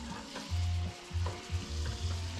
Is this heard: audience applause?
no